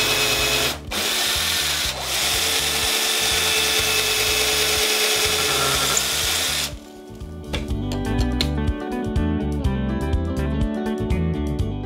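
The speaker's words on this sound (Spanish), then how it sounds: "taladro." A power drill bores into the hard wood of a guitar being repaired, with a loud, steady whine for several seconds that stops abruptly, followed by ratcheting clicks and scraping of handwork close up.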